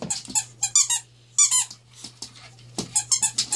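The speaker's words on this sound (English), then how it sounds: "He heard me squeak the ball." A squeaky rubber dog toy ball squeaks again and again in quick bursts, sharp and close, with short gaps between the clusters and no talking.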